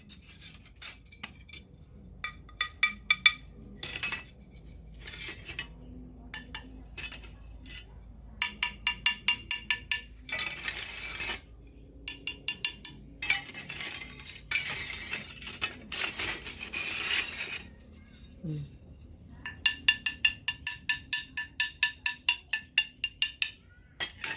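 Sharp wooden clinks and taps ring out in quick bursts and irregular runs, bright and close, with brief pauses between clusters of strikes.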